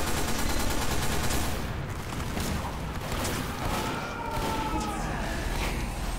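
Gunfire in Team Fortress 2 rattles almost continuously, a dense stream of shots and bursts that stays loud throughout, with faint game effects layered underneath.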